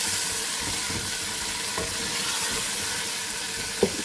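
Tomatoes frying with onion, ginger and spices for beef paye curry, a steady dense sizzle with a few light stirring scrapes and one brief clink near the end.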